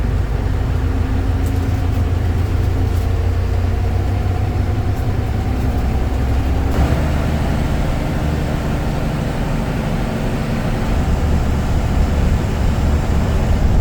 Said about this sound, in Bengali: রাস্তা যখন ফ্রি হয়ে গেছে তখন যত দূর যাচ্ছি ইঞ্জিনের সাউন্ডটা ততই পাল্টাচ্ছে।